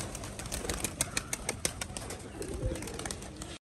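Giribaz pigeons at a farm flutter and flap their wings before feeding, a run of soft wingbeat bursts and rustles at close range with faint background noise and no talk.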